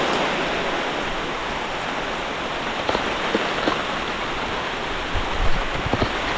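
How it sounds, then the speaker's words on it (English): Heavy rain pouring in El Yunque rainforest in Puerto Rico, a loud, constant hiss of water falling on leaves and ground, with a few louder drips and taps from under tree cover. "It's raining so hard, just hiding under a tree."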